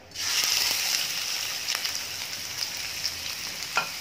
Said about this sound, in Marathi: आपलं इथे तेल छान तापलंय, कांदा घालूया।